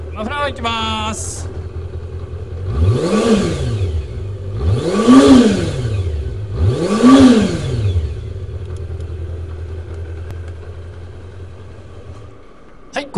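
A late-model Kawasaki Zephyr χ motorcycle's exhaust muffler blares close up at a dealership as three sharp rev blips in a row rise over a steady idle, followed by a long idle that fades out, with brief talk at the start.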